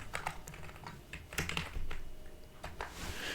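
Rapid typing on a computer keyboard, close and fairly quiet, with a quick run of key clicks and a few louder strokes.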